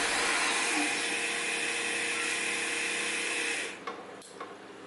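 An Atezr L2 laser engraver runs at high speed engraving an eagle design into MDF, a steady high whine and hiss that stops near the end, leaving a few faint clicks.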